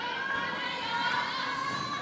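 Table tennis fans at a US Smash semifinal cheering and calling out, a steady dense crowd murmur with mixed shouted voices, moderately loud and continuous throughout.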